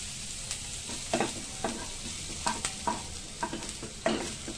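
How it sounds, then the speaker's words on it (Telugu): Spices fry and sizzle softly in a pan on the stove until they change colour, while a spoon stirs them in a series of light, irregular scrapes and taps close by. "కొంచెం కలర్ మారేంత వరకు వేయించుకోవాలి."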